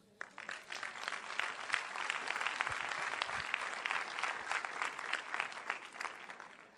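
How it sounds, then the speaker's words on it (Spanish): A congregation applauds a man during a Spanish-language sermon, dense clapping that swells quickly and holds steady for several seconds before fading, moderately distant and alone without talk. "Deme un aplauso a este varón"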